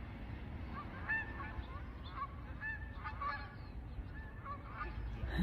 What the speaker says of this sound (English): Do you hear the geese calling?